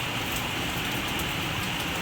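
Steady rain falls on a street in a Surat market area, a dense, even hiss of drops on wet surfaces that carries on without pause for the whole stretch, with no voices.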